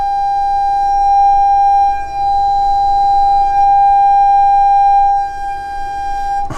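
Poco X7 phone running its speaker-cleaning tone, a steady loud electronic whine holding one pitch for several seconds with slight dips in level, alone with no voices.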